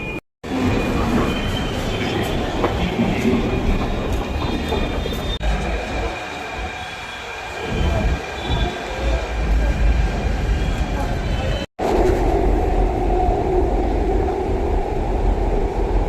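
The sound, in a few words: metro train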